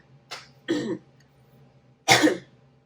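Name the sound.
coughing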